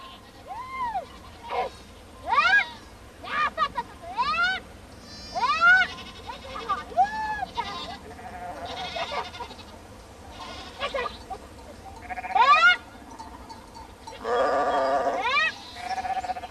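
Goats herded on a mountain among the Axi people bleat again and again, with about ten wavering calls of varying pitch spaced a second or two apart, fairly close and alone over quiet outdoor air.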